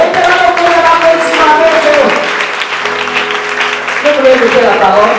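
Audience applause fills a women's conference hall, a steady wash of clapping running underneath a voice and sustained tones from start to finish.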